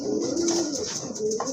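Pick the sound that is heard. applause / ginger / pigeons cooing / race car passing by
pigeons cooing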